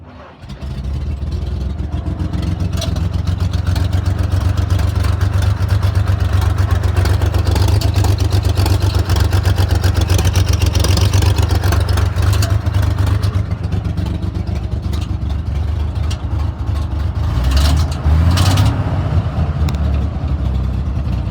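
A 1958 White 3000 cabover truck engine, suspected of needing a new fan clutch, runs close by with a heavy low rumble and rough clattering, holding steady before a brief surge near the end.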